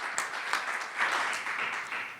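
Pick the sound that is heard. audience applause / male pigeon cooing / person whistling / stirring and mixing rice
audience applause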